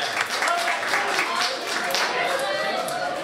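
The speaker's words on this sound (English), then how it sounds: "So give him a big round of applause." An audience at the 2009 Best of Saint John Music Awards breaks into a dense wash of clapping that holds steady for several seconds, with a voice speaking over the applause.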